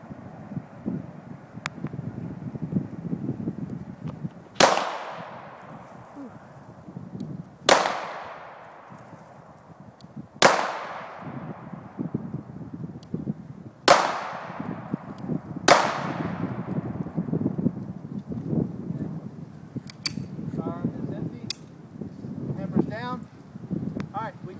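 Five single-action pistol shots fired at a range during a concealed-carry accuracy test, sharp loud cracks spaced a few seconds apart over wind noise and background chatter.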